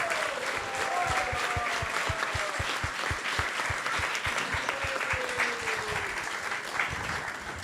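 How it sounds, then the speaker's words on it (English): Sustained audience applause fills a fundraiser hall at a devotional Krishna Katha gathering, steady and dense throughout, with faint tonal sounds drifting in the background and no clear speech. "Give a big round of applause to all those who have actually contributed."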